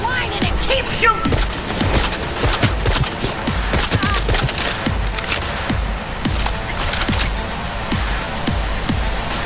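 Rapid, loud gunfire in the Cyberpunk 2077 video game at a city landfill, bursts of automatic shots cracking in dense, irregular volleys across the whole stretch, with booming impacts mixed in.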